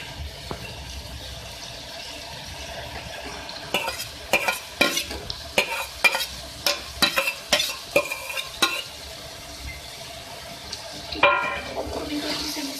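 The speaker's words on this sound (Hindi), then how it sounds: "गोभी को अच्छे से मिक्स करेंगे।" Cabbage and potato stirred in a frying pan, a steady low sizzle broken by a run of sharp, rhythmic scraping strokes in the middle and a clatter near the end, with no voices.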